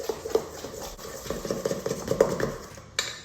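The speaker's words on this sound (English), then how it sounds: "give that a really good stir" A spoon stirring a biscuit baking mixture in a bowl, with continuous close scraping and clinking against the bowl sides and a final knock.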